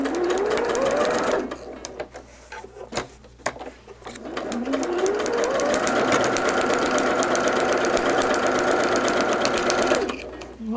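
A sewing machine stitches a quilt block at a 5.0 stitch length in a steady, fast mechanical whir, pausing briefly and then running continuously at close range.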